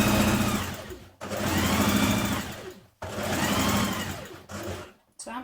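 A sewing machine running a long stitch along skirt fabric in three loud, steady runs separated by brief pauses, the motor's whirring close and prominent.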